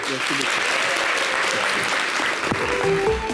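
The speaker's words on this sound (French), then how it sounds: "Merci de l'applaudir" A crowd applauds at a concert, a thick, sustained roar of clapping with a voice and faint musical tones running through it.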